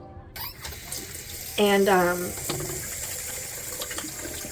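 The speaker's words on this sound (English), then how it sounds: "I'm gonna wash my hands real quick." Hands washed under a running tap at a sink give a steady close water rush that swells partway through. A voice talks over it, and a short hum is heard along with the flow.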